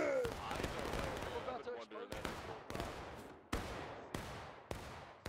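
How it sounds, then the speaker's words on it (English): Musket volleys crack out in the Civil War video game War of Rights on the Shenandoah Street map, several sharp loud shots with echoing tails and roughly regular spacing. Distant firing and a talking voice sit beneath them. "Keep firing those guns"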